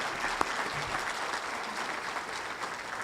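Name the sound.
audience applause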